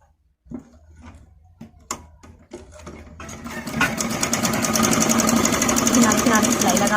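Sewing machine stitching the edge of a child's A-line frock, starting with a few separate clicks before settling into a steady, fast, loud needle run that continues to the end.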